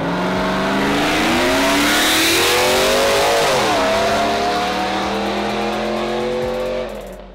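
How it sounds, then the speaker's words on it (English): A Katech-built truck launches hard in 4-wheel drive at the Custom Show Emirates Engine Battle in Abu Dhabi, its engine revving loud and rising in pitch through the run before easing off at the end. "The truck goes hard in 4-wheel drive on a launch."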